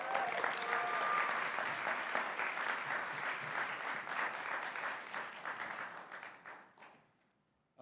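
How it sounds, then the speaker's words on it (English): An audience at The Reusies 2024 awards event gives a dense, sustained round of applause for an honoree. The clapping stays steady and full for several seconds, then thins and fades away to silence near the end. "Give them one more round of applause."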